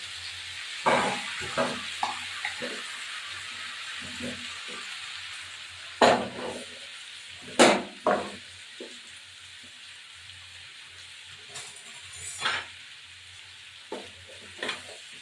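Prawns fry in a pan with a continuous soft sizzle, punctuated by irregular louder crackles and spatters as they cook, close and without talk.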